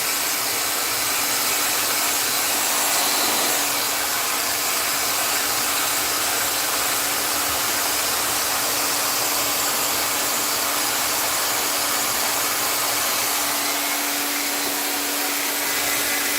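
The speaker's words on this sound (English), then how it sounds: "So the blow dryer is set on cool air only." A hair dryer on its cool-air-only setting blows continuously at a steady, loud whoosh with a constant motor hum, unchanging throughout.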